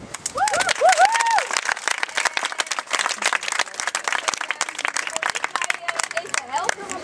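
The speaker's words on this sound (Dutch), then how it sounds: "En voor al die culturele organisaties een hartelijk applaus." Hearty audience applause for cultural organisations at a community event, loud dense clapping with a few whoops and whistles early on, gradually thinning toward the end.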